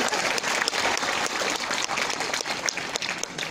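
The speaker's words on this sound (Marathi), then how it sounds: "टाळ्या वाजवा देण्यासाठी." Audience applause fills a Marathi-language workshop for IAS officer training, a steady dense wash of clapping from a crowd, loud and continuous throughout with no talk over it.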